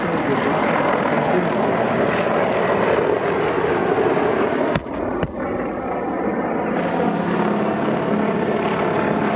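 A Mi-8 or Mi-17 military helicopter at a Serbian Army display at an airfield gives off a loud, steady rotor and engine roar that fills the whole stretch, with a brief dip partway through.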